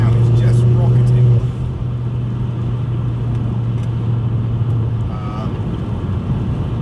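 A car engine pulls hard in sixth gear, a loud, steady low drone that holds a constant tone throughout, heard from inside the cabin with a voice talking over it.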